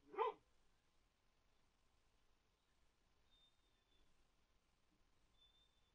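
A puppy gives a single short, sharp bark right at the start, close and fairly loud, followed by near silence with only faint room noise and a couple of thin, high tones.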